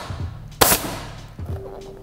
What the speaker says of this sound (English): shoot about 3 staples.